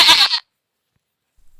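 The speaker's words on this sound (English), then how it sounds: "goat," A goat gives a short, loud, wavering bleat close up, followed by silence and the faint start of another sound at the end.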